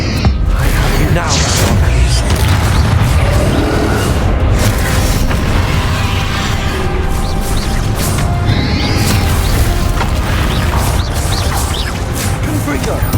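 Explosive Confringo fire spells in the Hogwarts Legacy video game go off in a continuous loud barrage of booms and crashes, with a voice shouting spell names over the din.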